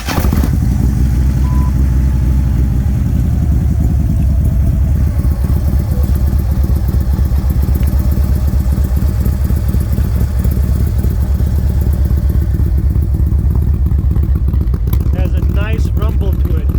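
A 2013 Harley-Davidson Road King CVO engine rumbles steadily and loudly up close, a deep continuous idle throb that runs throughout with faint clatter on top and no voices over it.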